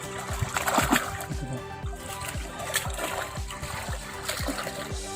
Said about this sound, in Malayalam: അതെടുത്ത് ചെളിയായിട്ട് മിക്സ് ചെയ്തിട്ട് നേരെ വെള്ളത്തിലിട്ടിട്ട് അത് ചവിട്ടി താത്തും